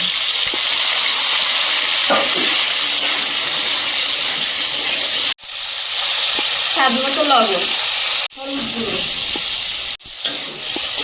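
Potatoes fry in a pan of oil with ginger and green chilli in a rustic home kitchen. A loud, steady sizzle fills the clip, broken by a few short cuts, while a person speaks briefly over it.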